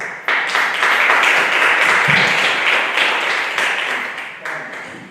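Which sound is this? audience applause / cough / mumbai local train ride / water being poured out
audience applause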